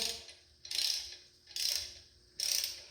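A ratchet wrench tightens flywheel bolts on a rebuilt V8 in three close, crisp bursts of rapid clicking, each about half a second long and evenly spaced, in a quiet workshop with no talking.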